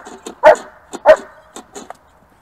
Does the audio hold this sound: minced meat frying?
no